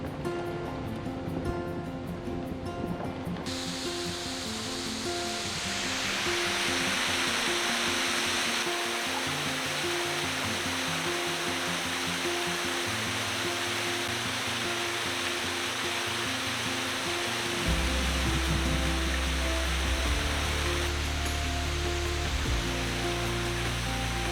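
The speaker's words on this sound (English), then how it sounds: "that right there is waterfall number 3" Beulah Falls, a waterfall at Spooky Cave campground, makes a steady, full rush of falling water that roars on without a break and with no talking.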